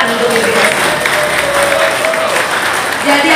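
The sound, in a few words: audience applause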